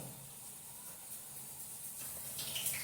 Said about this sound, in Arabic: هغرقها كده بالسمنه